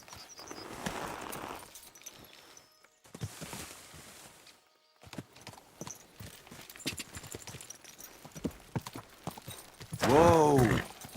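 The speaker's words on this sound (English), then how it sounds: "Eu chamo meu cavalo vem" A horse answers a call in the medieval game Kingdom Come: Deliverance II, its hooves clip-clopping in an irregular trot that draws nearer and louder, with a short whinny near the end.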